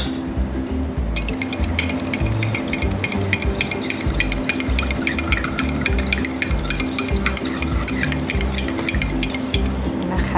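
A spoon clinks repeatedly against a glass while stirring a pink cocoa milk drink with condensed milk, the quick metallic taps continuing steadily throughout.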